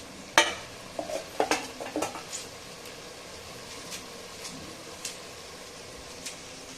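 Biryani masala being stirred after a handful of mint and coriander leaves is torn in, giving a cluster of scraping and clinking strokes early on, then only faint occasional taps over a quiet background.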